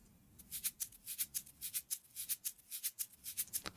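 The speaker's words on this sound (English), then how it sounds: "we introduce this shaker sound" A shaker loop from a hip-hop beat made in Logic Pro plays alone, a crisp rhythmic pattern of quick bright shakes repeating steadily at moderate volume.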